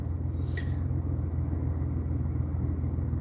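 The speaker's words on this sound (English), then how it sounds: "It's been a long time I started this car." A car engine idles after a cold start following a long spell parked, a steady low rumble that holds evenly throughout with no voices.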